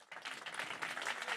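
An audience applauding a speaker at a talk on artificial intelligence, with a dense, steady burst of clapping that carries on evenly throughout, heard from within the room.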